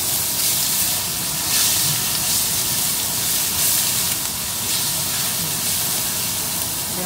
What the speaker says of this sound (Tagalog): So yan, gisa nyo lang yung garlic.